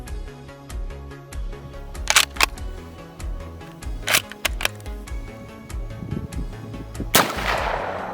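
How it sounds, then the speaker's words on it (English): Several sharp gunshot cracks from a Mauser Model 46 rifle firing soft rounds, spaced irregularly with loud reports near 2, 4 and 7 seconds, over background noise. "let's load up some soft rounds and see if it explodes"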